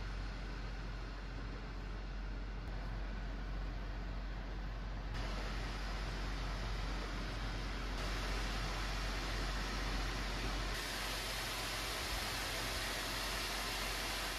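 Steady broadband whoosh of an Acer Predator Helios Neo 16 2024 gaming laptop's cooling fans, rising in intensity in stepped jumps as fan modes change, continuous with no talk.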